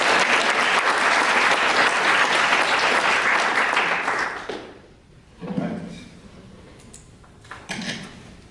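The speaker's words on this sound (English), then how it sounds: "Join me in giving him a round of applause." Audience applause at an evening talk on preventing burnout, a loud burst of dense clapping that fades away after about four seconds, followed by quieter room noise and a couple of soft thumps.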